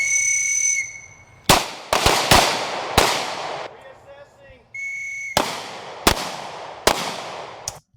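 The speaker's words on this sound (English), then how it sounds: "I like the way he's shooting because he squeezes very softly and he has good follow through" Gunshots from a police officer firing at a target during firearms training, a series of sharp, loud cracks spaced roughly a second apart with short echoing decays and a brief pause midway.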